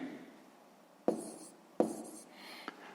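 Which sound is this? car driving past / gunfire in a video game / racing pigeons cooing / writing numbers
writing numbers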